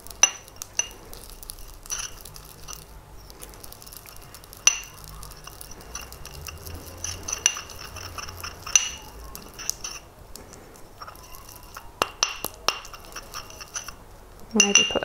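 Paint stirred together with painting medium in a glass container, giving light, irregular clinks and scrapes of glass spread through a quiet room, with no talking.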